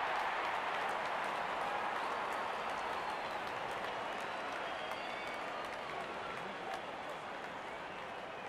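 Crowd cheering and applause at a T20 cricket match between India and South Africa in the Real Cricket 24 video game, a steady broad roar that carries on throughout, with no speech over it.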